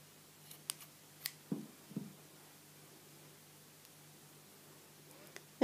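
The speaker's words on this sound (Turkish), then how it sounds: "öncelikle şuradan en baştaki ilmeği makasla açıyorum" Scissors snipping open the first stitch of Alize Puffy yarn, a few soft, separate close clicks and cuts spread out over a quiet background, with a sharper click at the very end.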